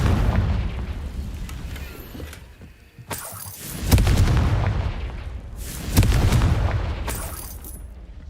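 Repeated booming fire-spell blasts from the Confringo curse in Hogwarts Legacy, several loud bursts at intervals, with the clearest impacts around three, four and six seconds over a rumbling game soundscape.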